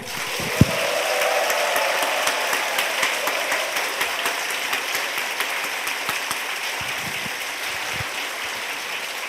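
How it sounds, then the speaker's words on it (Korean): A church congregation at a Sunday afternoon service applauds together, a steady even wash of clapping that carries on for several seconds at moderate level. "다 같이 박수"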